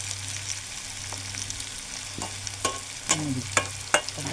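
Onions fry in a pan with dried ghee fish, a steady close sizzle broken by several sharp scraping stirs that grow louder toward the end, no talking.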